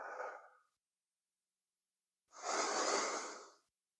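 Deep breaths during a guided breathing exercise: a soft airy exhale trails off, a pause of silence follows, then a fuller, louder inhale, close and unaccompanied by speech.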